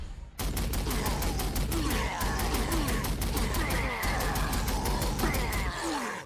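Dense, continuous gunfire from Astra Militarum troops in the Warhammer 40,000: Sanctus Reach video game, rapid shots crackling in a steady stream after a brief silent start.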